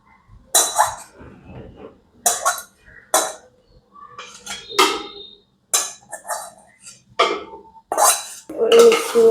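Spiced masala for kosha mangsho tipped into a metal pot and mixed, heard as separate bursts of clanking, scraping and knocking of utensil against pot, close and clear with quiet gaps between.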